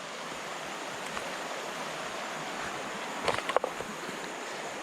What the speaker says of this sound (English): I hear some riffles up ahead